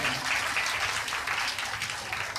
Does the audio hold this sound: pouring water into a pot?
no